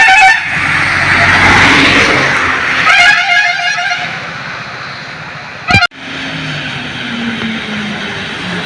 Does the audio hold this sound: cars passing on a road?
yes